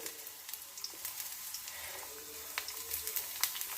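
Onion and dried chilli crackle in a pan, a quiet steady sizzle with small popping spatters scattered through it.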